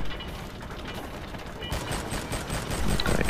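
Rapid mechanical clicking and clattering gunfire from a weapon in the zombie shooter R.I.P.D. The Game, steady bursts that grow louder toward the end.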